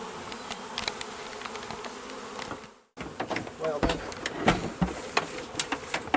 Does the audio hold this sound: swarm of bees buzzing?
yes